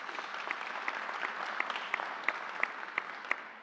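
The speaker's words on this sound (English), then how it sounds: "Let's give her a round of applause." Audience applause at a New York governor's announcement at Suffolk Community College, a steady wash of many hands clapping with a few sharper individual claps standing out at a roughly regular beat, moderately distant and alone.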